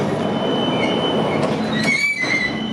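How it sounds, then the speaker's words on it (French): A metro train in Milan rolls along with a steady rumble, wheels squealing in high tones partway through, loud and close with no talking. "It's a metro."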